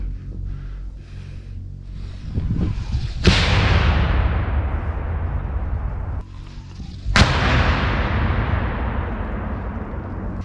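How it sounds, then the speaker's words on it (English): Grenade launcher fired at enemy positions during a trench battle in Ukraine: two sharp, loud blasts several seconds apart, each trailing into a long rumbling decay over constant outdoor noise. "The soldier readied the grenade launcher. He's going to open fire on the Russian positions."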